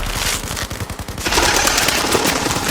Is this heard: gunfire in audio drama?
yes